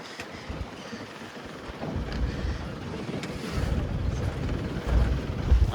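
Wind blowing across a fishing boat at sea, gusty rumbling buffets that strengthen toward the end and sit loud and close against the microphone, with engine and water noise underneath.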